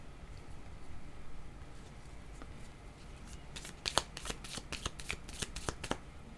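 Tarot cards are shuffled by hand, with quiet rustling at first and then a close run of crisp riffling slaps and flicks in quick succession.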